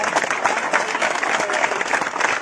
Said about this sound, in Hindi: जोरदार तालियां बजाओ सभी लोग